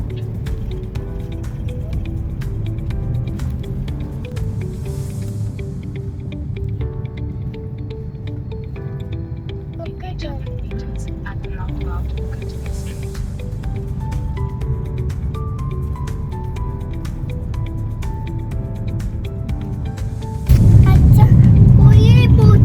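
Ride in an Uber taxi from Fort Kochi toward Cochin Shipyard, a steady low engine and road rumble running throughout with music-like tones over it, growing louder near the end.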